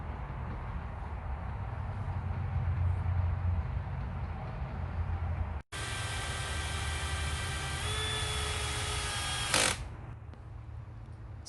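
Circular saw cutting wooden floor pieces for a backyard catio, a loud steady whining cut running for several seconds, the blade pitch shifting as it bites, then spinning down at the end after an earlier stretch of motor hum.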